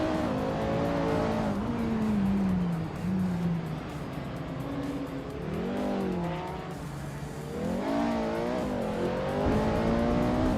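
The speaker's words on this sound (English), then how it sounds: "Derek Plays is racing an Opel Calibra DTM from 1996" A 1996 Opel Calibra DTM race car in a racing video game, its engine revving loud and continuous with rising and falling gear-change sweeps, tire squeal mixed in, no talk.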